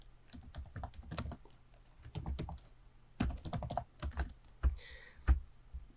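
Fingers type on a computer keyboard in quick, irregular bursts of close clicking, separated by brief pauses, with no voice over the keystrokes.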